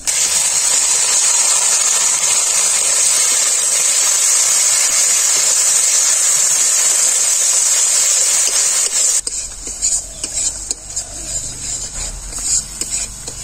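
Boiled ground spinach paste hits hot fried spices in a pan for palak paneer, giving a loud, dense hiss that runs steadily, then abruptly drops to a quieter crackle with faint scattered pops.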